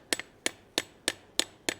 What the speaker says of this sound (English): hammer it right on around